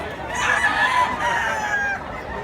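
A white stag rooster at a gamecock sale in Mantalungon, Cebu crows and clucks, a near, moderately loud series of harsh calls rising and falling over a few seconds with faint background noise.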